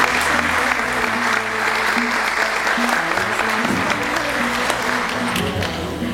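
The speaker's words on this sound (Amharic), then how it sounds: "አንድ ጊዜ ሞቅ ያለ ጭብጨባ" A large audience at a film ceremony applauds warmly, producing a dense, continuous clapping that holds steady at full strength for several seconds without a break.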